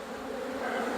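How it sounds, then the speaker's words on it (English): Honey bees buzzing in the aftermath of a swarm, a dense steady drone of many wings close by, continuous and unbroken for the whole second. "bees out there on the front, most of which are probably going to be nurse bees"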